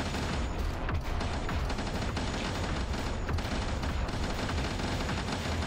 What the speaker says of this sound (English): Yeah, we got power on this machine gun. That's basically it. Okay. We have enemies shooting projectiles at us now.